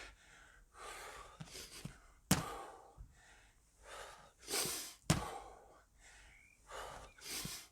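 Heavy, irregular breathing during a home workout circuit, with sharp gasping inhales and puffing exhales in bursts, close and fairly quiet.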